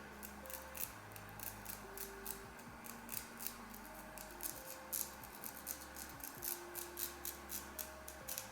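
Scissors snip through wig lace in a quick, steady series of close, crisp cuts, many small clicks and slices repeating over a faint background hum.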